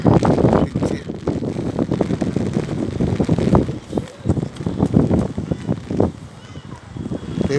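Strong sea wind at Old Digha beach in the evening, with rain about, roars and buffets steadily against the microphone as a loud, continuous rumble with gusty surges.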